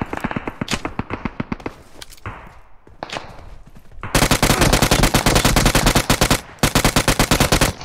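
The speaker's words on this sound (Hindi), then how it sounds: "ये ऑटोमेटिक फायर इधर है" Rapid automatic gunfire in the PUBG Mobile video game, loud and close, rattling in fast continuous bursts throughout with brief gaps, the densest and loudest stretch arriving in the second half.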